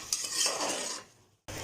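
Onions and tomato sautéing in oil in a pan for a coconut rice and chicken curry meal, a close sizzle with a quick stirring scrape, fading out briefly before the sizzle returns at the end.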